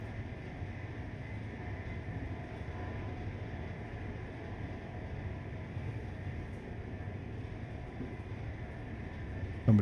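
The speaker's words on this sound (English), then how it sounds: "Especially in our new super duper electric train." An electric train in the railway simulator game Train Life runs with a quiet, steady low rumble that holds evenly for the whole stretch.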